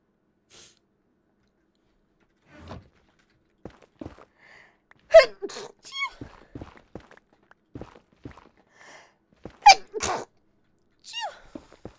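Two sharp, loud human sneezes several seconds apart, each with a quick intake of breath, mixed with scattered footsteps and small movement sounds in a quiet indoor room.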